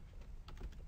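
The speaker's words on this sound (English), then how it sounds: "We're just typing it up." Computer keyboard typing while a math problem's work is entered, quiet soft key clicks in a short close burst of several taps with no talking.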